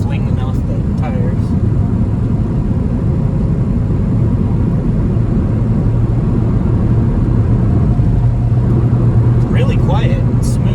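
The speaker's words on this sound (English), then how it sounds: "See if it'll do highway speeds. So far so good. Hear a bunch of mud flinging off the tires." A Honda Civic cruises at highway speed near 60 mph, a steady broadband road and tire roar filling the cabin with a low engine drone, scattered gritty bursts of mud flinging off the tires throughout.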